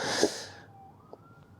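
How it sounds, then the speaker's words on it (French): After a short sharp burst, a faint, distant police siren carries on outdoors as a thin wavering tone, quiet and far off. "Vous avez peut-être entendu les sirènes."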